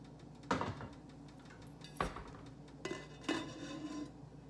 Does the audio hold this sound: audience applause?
no